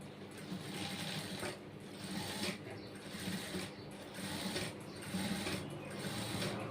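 A sewing machine stitching an added second layer of fabric on a prince-cut blouse, running with a steady, continuous mechanical whir at close range with no talking.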